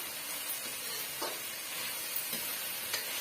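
Chutney ingredients frying in a pan, stirred now and then, giving a steady soft sizzle with a few brief scraping strokes of the spoon, close and fairly quiet, with no talking.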